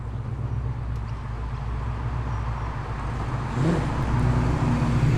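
Corvette driving slowly through a car show, its engine a close, steady rumbling drone that swells slightly louder as it nears, mixed with outdoor crowd ambience and no clear talk.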